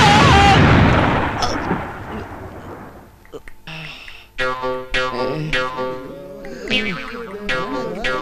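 Firecrackers burst in a Malayalam comedy film scene, a loud crackling blast that fades out, followed by people talking and shouting.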